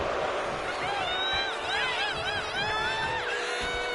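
Crowd cheering and whooping from the arena audience in the WWE 2K26 wrestling video game during a match, a steady roar with rising shouts and whistles throughout, fairly loud and continuous.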